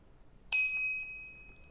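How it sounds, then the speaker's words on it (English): A YoLink smart-home speaker hub sounds a single bright chime-like warning tone that strikes sharply and rings out with a long, steady decay, close and clear against quiet room hiss. "So that's the sound of that tone."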